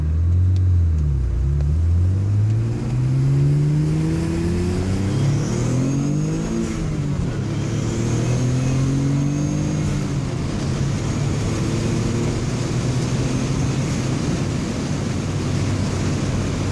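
A 1996 Mitsubishi 3000GT VR-4 with billet 15G turbos accelerates hard through the gears, loud engine pitch climbing and dropping with each shift, a continuous close rumble throughout without talk.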